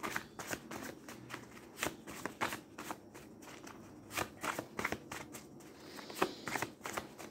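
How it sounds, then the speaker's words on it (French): Playing cards are flipped and shuffled by hand during a tarot-style reading, giving close, soft papery riffles and slaps in irregular bursts with no talking. "On va recouvrir quelques cartes."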